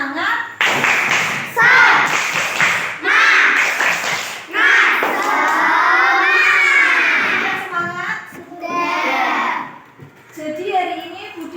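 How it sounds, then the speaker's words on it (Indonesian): Classroom of primary school children chanting and clapping a rhythmic tepuk semangat, bursts of synchronized claps alternating with loud sung-spoken young voices, close and lively. "Mari kita tepuk semangat dulu untuk menambah semangat kita."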